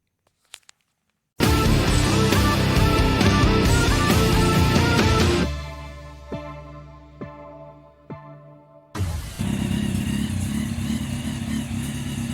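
A Kawasaki ZX10R motorcycle engine, a project bike on a new tank, fuel pump and plugs, cranks and fires into a loud, rough idle, falls to uneven sputters and dies, then restarts and settles into a steady idle up close.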